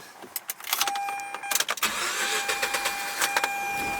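A cheap used rotary-engine car cranks and starts with a few uneven catches, then settles into a steady idle, close by.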